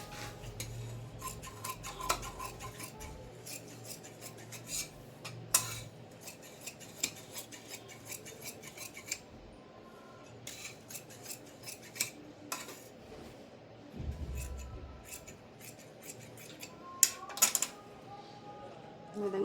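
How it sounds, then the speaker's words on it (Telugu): Scissors cut satin cloth for a child's frock bodice, giving intermittent close snips and crisp clicks with faint rustling of fabric, while a voice talks at times in between. "బాడీకి కూడా సాటిన్ క్లాత్ కట్ చేసుకున్నాం"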